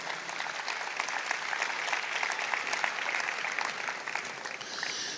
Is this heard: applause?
yes